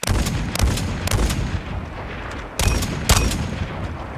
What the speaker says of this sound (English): it's got quite a fast firing gun this one actually